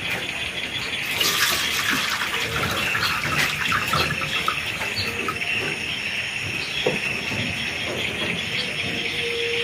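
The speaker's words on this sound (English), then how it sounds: "You can use the water again and again. Pour the water." Water poured over pepper seeds held in a basket, a steady broadband splashing and trickling that runs continuously at close range, with no talking.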